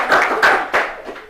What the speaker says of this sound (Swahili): Mpatie makofi yake.